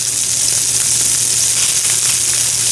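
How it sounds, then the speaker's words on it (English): Loud, steady sizzling of fish searing in a hot pan, a continuous crackling hiss with no voices. "it's actually starting to sizzle a little bit faster"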